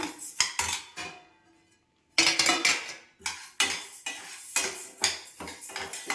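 Roasted idli podi ingredients are tipped out of a pan, with sharp metal clanks of a spoon scraping and tapping the vessel, a short pause, then more rhythmic scraping and knocking.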